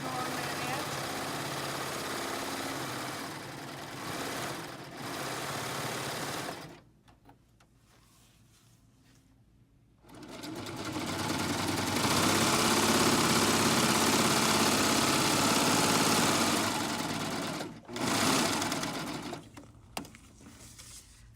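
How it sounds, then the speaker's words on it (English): A serger sewing along the edge of fabric for a snack bag runs in long, steady mechanical bursts with a pause between, close up, and a voice talks over part of it. "we're just going to serge right along that edge"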